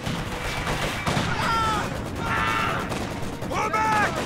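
Gunfire and fusillades crackle through a Company of Heroes 2 fight at Essen Steelworks, with steady shooting and scattered impacts under shouted soldier voices throughout.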